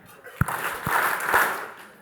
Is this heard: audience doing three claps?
yes